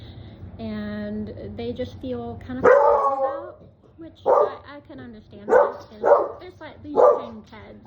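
A dog barks repeatedly indoors, with several loud, close woofs and a whine between them, while a person keeps talking over it.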